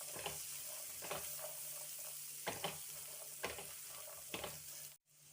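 Boiled corn sizzles and pops in melted butter in a pan, a soft, steady frying hiss broken by several quick stirring scrapes, then a brief drop near the end.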